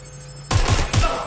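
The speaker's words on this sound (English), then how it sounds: "Someone's shooting!" Gunfire in Watch Dogs Legion: three loud, close shots in quick succession, each sharp with a short tail, breaking a quiet hum.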